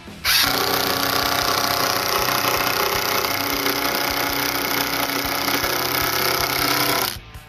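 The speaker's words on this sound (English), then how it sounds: "we're going to take our exterior screws, and we're going to put a couple screws in here" A power driver runs with a steady, loud whirring drone for about seven seconds, driving exterior screws into clamped wood while a picnic table is built, then stops abruptly.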